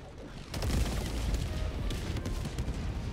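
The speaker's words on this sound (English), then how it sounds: "I have this, so, uh, airstrike out" An airstrike in the video game Helldivers 2 breaks in after a quieter moment as a dense, rolling barrage of booming blasts with crackling impacts, heard at a distance and sustained for several seconds.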